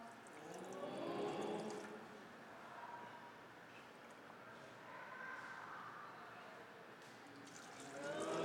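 Water from simple 200 ml plastic cups is poured into a container, making soft, faint splashing and trickling that swells and fades over several seconds, with a louder pour at the start and end.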